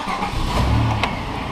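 A Pontiac Grand Am engine (1999–2005 model) idles just after starting, a short burst of close mechanical rumble with a brief rise in pitch.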